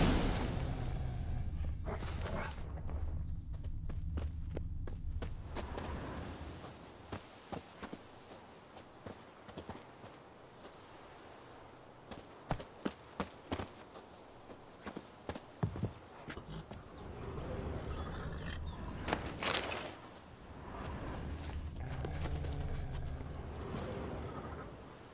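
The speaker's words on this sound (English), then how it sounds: "That's his horse." A horse's hooves clip-clop at a walking pace in The Witcher 3, the steady thuds faint and intermittent against a soft ambient background with occasional swooshes.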